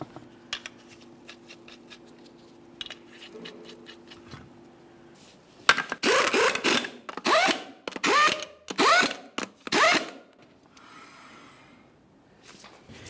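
Power tool spinning 21mm lug nuts onto a Dodge Ram 1500 wheel, several loud close ratcheting bursts in quick succession after some faint clicks.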